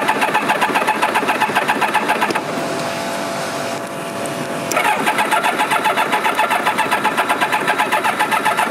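A budget sport motorcycle, an SRAD or ZX-7R, cranks with choke on and fails to catch: a loud, rapid rhythmic starter churn, a pause of a couple of seconds, then a second long burst of cranking.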